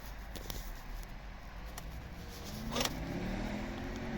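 A 2012 Volvo V50 with a 2.0 D3 diesel engine and automatic gearbox cranks and fires up near the end, its engine note rising and settling into a low idle after a quiet start.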